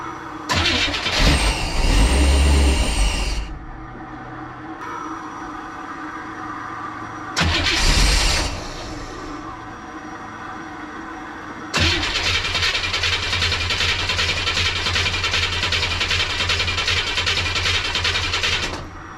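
A 1957 Chevy Tri-Five engine, freshly primed with gas poured down the carburetor throat, cranks in loud bursts, catches briefly, then settles into a steady, close running roar for the final stretch.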